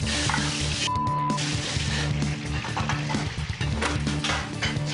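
Broth goes into a pan of reheating chicken, making a steady sizzle and bubbling hiss that stays close and continuous, with a faint clink of a utensil. No one talks.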